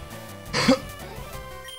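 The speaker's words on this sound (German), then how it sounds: "Da musste ich halb husten" A person gives a half cough, clearing their throat in two short, rough bursts about a second apart, close and moderately loud against quiet background.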